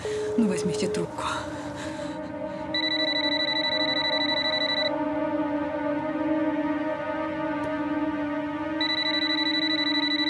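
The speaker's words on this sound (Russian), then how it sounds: "Игорь, ну возьмите трубку." Steady electronic ringback tone on a phone call with repeating high beeps in two bursts, following a brief murmur at the start.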